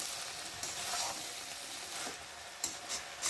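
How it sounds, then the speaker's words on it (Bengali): Water spinach and prawns sizzle and fry in a pan while being stirred, a soft, steady crackle with a few brief scraping bursts near the end, close and without talk. "চলো এখন ভালো করে নেড়ে দেবো।"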